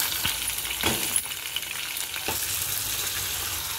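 Coriander seeds, cumin and green chilies frying in a pan, a steady close sizzle with a few soft clinks and scrapes of stirring, no voices.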